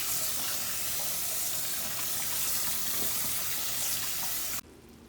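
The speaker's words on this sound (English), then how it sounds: "you're supposed to rinse with cold water to get the remaining of the starch off" Cold tap water runs steadily into a sink to rinse drained pasta noodles, a constant hissing splash that stops abruptly near the end.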